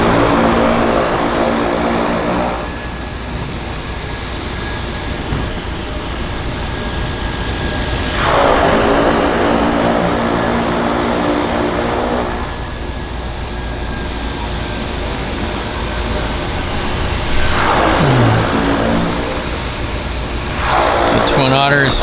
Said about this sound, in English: So Twin Otter's heading out.